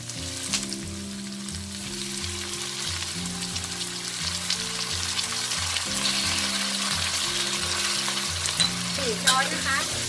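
Undulated surf clams stir-fried with black pepper and oyster sauce in a hot pan, a loud continuous sizzle with steady stirring and scraping throughout, close up over a low hum.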